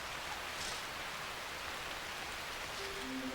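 Steady rain falls through an Asian forest, a soft, even hiss of drops on leaves and ground, continuous and fairly quiet with no voices.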